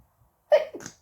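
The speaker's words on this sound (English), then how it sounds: "Phew, sorry, I have to sneeze." A single quick, close sneeze, a sharp burst followed by a short breathy tail.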